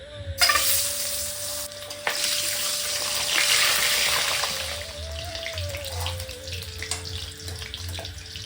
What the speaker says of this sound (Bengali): কড়াইতে একটু জিরে ফোড়ন দিয়ে নিলাম